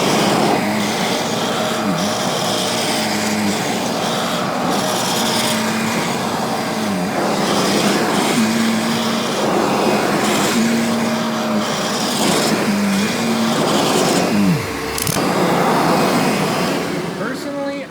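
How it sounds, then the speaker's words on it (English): A Kirby Sentria G10D upright vacuum used in hand-vacuum mode runs loudly and steadily up close, a constant whirring roar with brief pitch dips as the nozzle moves. "Now you can use this thing as a hand vacuum."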